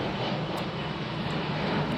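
Air Force planes flying overhead make a steady, loud engine roar that fills the whole moment without pause and drowns out any other sound.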